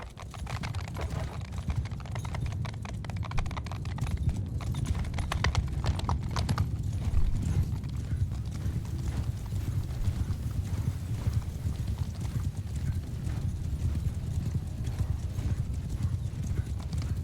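Cavalry horses gallop in the medieval battle game Bannerlord, a dense, continuous drumming of hooves close by, with occasional whinnies and faint voices under the steady clatter.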